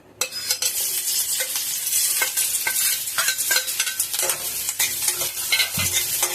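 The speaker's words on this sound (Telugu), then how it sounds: "ఇప్పుడు మనకి ఇవన్నీ బాగా ఫ్రై అయ్యే వరకు ఫ్రై చేసుకుందాం." Vegetables, chana dal and green chillies fry in oil for rava upma, sputtering loudly close up. A spoon scrapes and clatters against the pan in quick repeated strokes, with no talking.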